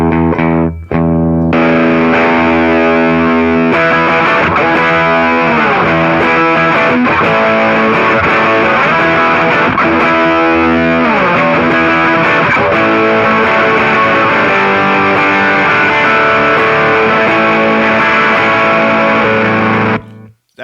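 An SG guitar through a Roadkill fuzz pedal with the treble maxed gives a loud, saturated, buzzing fuzz of sustained chords and sliding notes, close and continuous with no talking.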